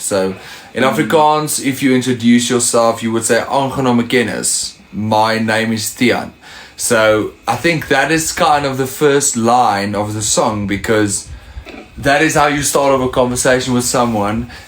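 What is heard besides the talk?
No everyday noise stands out behind the speech.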